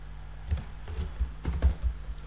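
Rapid keystrokes clatter across a computer keyboard as Java code for a MySQL record-navigation program is entered, uneven taps close by over a low steady hum.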